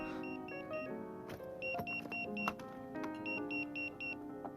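A phone message notification sounds as three bursts of four short, high beeps, clearly audible over a busy background of music and other sounds.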